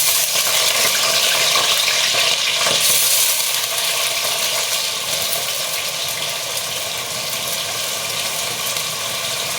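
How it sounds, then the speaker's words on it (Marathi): Potato slices frying in plenty of hot ghee, a loud, steady close sizzle with crackling hiss throughout, briefly stirred near the start, no voices. "बटाट्याचे काप टाकून घे त्याच्यात."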